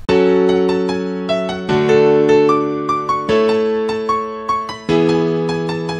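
The final synth melody of an official remix rings out alone: bright plucked notes in a steady rhythm over sustained chords that shift about every one and a half seconds, loud and clean.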